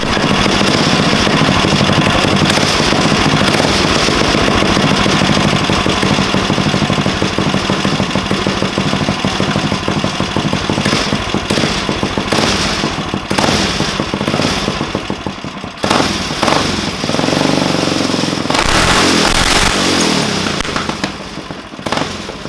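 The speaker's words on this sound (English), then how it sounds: "So we got the engine all put back together. She's running awesome" A street go-kart engine runs steadily and loudly after a valvetrain upgrade, a continuous mid-pitched drone with rapid firing pulses that shifts slightly in tone toward the end.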